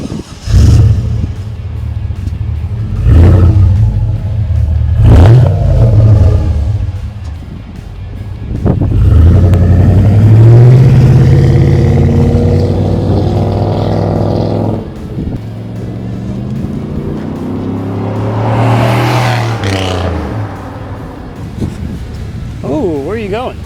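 A 2001 Chevrolet Silverado 2500HD Z71 pickup's big engine cranks over and catches, then revs up in loud, rough surges, with voices talking over the rumble now and then.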